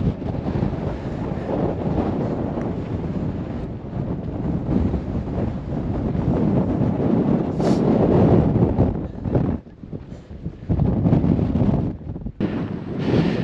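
Strong wind near Fuego volcano roars and buffets the microphone in continuous heavy gusts, dropping briefly twice before surging back.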